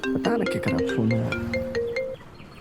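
A phone rings with a melodic ringtone, a bright tune of stepped, sustained notes that plays for about two seconds and then cuts off.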